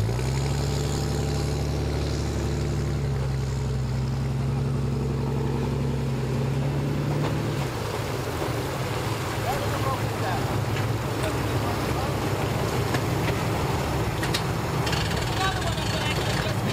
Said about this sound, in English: Got the bass boat on